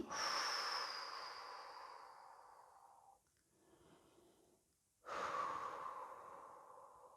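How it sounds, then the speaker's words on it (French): Slow relaxation breathing, in through the nose and out through the mouth: two long, close, airy breaths separated by a quiet pause of a couple of seconds, with no talk. "Inspirez par le nez, soufflez par la bouche."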